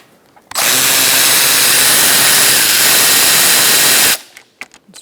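A 10mm socket on a power tool removes a bolt on a 2002-2006 Honda CR-V during AC condenser fan replacement, a loud continuous whirring run of about three and a half seconds, then a few small clicks.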